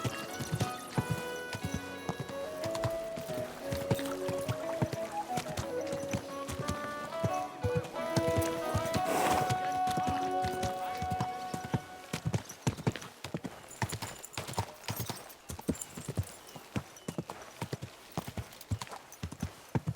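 Horse hooves clip-clopping as a rider travels in the video game Kingdom Come Deliverance 2, a steady rhythmic trot of hoof hits under a musical score, with the hooves growing more prominent as the music drops away.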